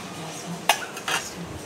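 Peanuts dry-roasting in a pan over a high gas flame for a tomato and green chilli thecha, heard as a couple of sharp metallic scrapes and clinks of a spoon against the pan over a faint low hiss.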